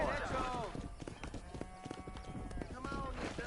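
Horse hooves clip-clop at a steady walk in a video game cattle-herding scene, with moos and bellows from cows mixed in and someone talking over the action.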